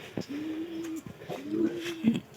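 Broody pigeons kept in a pigeon house give two soft, close, drawn-out coos over a quiet background, with a brief flutter near the end.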